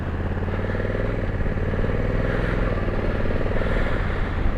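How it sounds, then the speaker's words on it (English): Standing close to a 2020 Honda Africa Twin Adventure Sports motorcycle, its engine idles with a steady deep rumble, loud and even for several seconds with no voices. "Engine is got a really nice sound to it. Let me give you an example of that. It's got a nice rumble to it."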